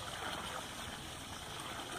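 Water flows out of a fish tank's discharge system, a continuous close rushing, gurgling stream that stays steady and fairly quiet throughout.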